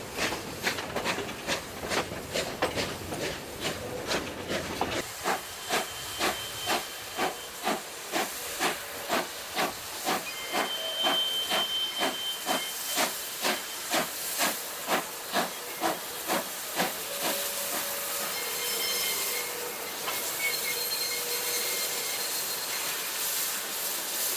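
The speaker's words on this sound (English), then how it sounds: "Before servicing, the locomotives are turned on the triangle." A steam locomotive on a rail line hisses loudly and steadily while rhythmic chuffs beat at a regular pace nearby, with faint whistle-like tones now and then and no talk.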